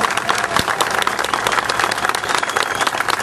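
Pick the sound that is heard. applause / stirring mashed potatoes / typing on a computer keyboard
applause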